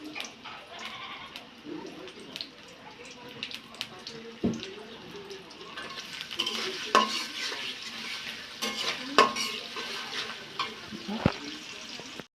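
Onions fry in oil until brown for a prawn and pumpkin curry, a quiet steady sizzle that thickens in the second half, broken by clinks and stirring scrapes, with faint background voices.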